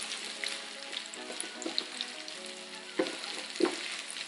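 Breakfast skillet ingredients being mixed in a hot pan, a soft steady sizzle with faint crackles and a couple of heavier stirring knocks near the end.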